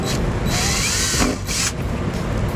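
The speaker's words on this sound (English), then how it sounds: "You can see it takes little effort for the drill bit to go through the plastic fascia." A power drill bores holes through the plastic bumper fascia of a 2013 Jeep Patriot, a loud close whine with a short pause in the middle as the bit bites and breaks through.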